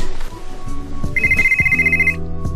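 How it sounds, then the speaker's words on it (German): Mobile phone ringtone for an incoming call: a loud, bright repeating electronic melody of rapid notes, heard close over a music bed, with no talk during the ring. "schau mal, wer da anruft und auf meinem Handy"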